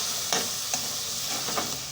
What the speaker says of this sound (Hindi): और हम अब इस मसाले को कीमे में अच्छे तरीके से भून लेंगे।